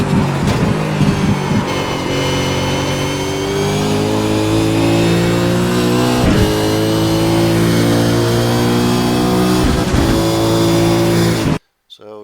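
In a racing video game at Zolder, a race car engine revs loud and close, climbing in pitch through the gears with brief dips at the shifts, then cutting off abruptly at the end, with a voice talking over it.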